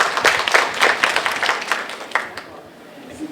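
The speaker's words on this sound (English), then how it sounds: "A big applause for Vinuji." An audience at an Indian film festival awards closing ceremony claps in a dense burst of applause that thins out and fades after a few seconds.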